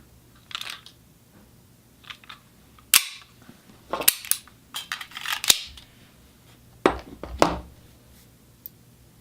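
An unloaded 9mm Beretta pistol is handled and dry-fired, producing a series of sharp, close metallic clicks and snaps at irregular intervals with no voices.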